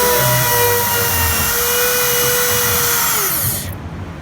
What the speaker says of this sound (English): So Cody, what I'm going to be sending you is a router with a fixture on here.